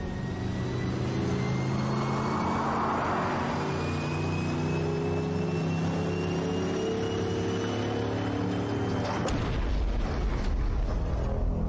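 A Pontiac Bonneville crash test: a steady, loud engine and road rumble runs throughout, then the car hits the barrier in one sharp, heavy impact near the end, with the rumble carrying on after.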